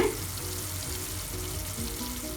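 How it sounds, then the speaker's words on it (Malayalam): Fish pieces cooking in masala over a slow flame for a fish roast, giving a steady, even sizzle and frying hiss that runs unbroken through the moment with no voices. "ഇനി നമുക്കിതിലേക്ക് കട്ട് ചെയ്ത് വെച്ചിട്ടുള്ള മീനാണ് ചേർക്കേണ്ടത്. സ്ലോ ഫ്ലെയിമിൽ വേണം ഇനി നമുക്കിത് കുക്ക് ചെയ്തെടുക്കാൻ."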